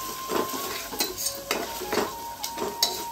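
A pigeon pea rice mixture is stirred in a pan, with soft scraping strokes and a few sharp utensil clinks against the pan repeating about every half second over a faint sizzle, close by.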